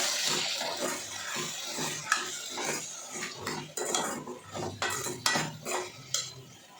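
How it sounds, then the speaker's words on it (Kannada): A spoon stirs sambar ingredients with turmeric in a metal pot, giving irregular clinks and scrapes over a soft frying hiss, close and fairly quiet. "ಈಗ ಇದನ್ನು ತಿರುಗಿಸ್ಕೋಬೇಕು"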